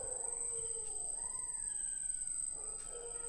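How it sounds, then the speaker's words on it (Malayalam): A distant jackal howl rises and wavers in long gliding tones, faint against a steady hiss with a high constant whine. "കുറുക്കൻ തള്ളി കേട്ടപ്പോ"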